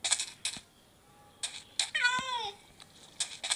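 A pet cat in a village home gives one drawn-out, wavering meow near the middle, set among short bursts of clattering or tapping noise with no talk.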